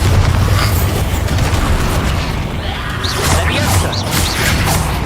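Explosive spells go off in the game Hogwarts Legacy, with loud booms and crashing bursts layered over heavy rumbling and swooshing effects that fill the whole stretch.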